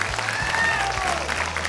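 Loud audience applause at a children's talent show, dense continuous clapping from a big crowd filling the whole moment.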